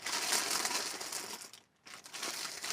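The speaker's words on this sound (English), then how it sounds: "Lots of crinkling today, so I apologize." Plastic bags crinkle loudly and continuously as a thrift store yarn haul, including heavy rug yarn, is unpacked, with a brief pause before the rustling resumes. Nobody speaks.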